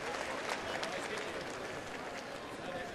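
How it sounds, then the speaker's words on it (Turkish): Crowd in the stands of a boxing match applauding and cheering steadily, a dense wash of clapping and crowd noise filling the whole span, with a commentator talking over it. "Evet, ayağa kalktı ve tribünler kendisini alkışladı."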